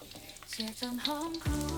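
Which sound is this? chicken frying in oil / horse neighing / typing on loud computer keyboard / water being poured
chicken frying in oil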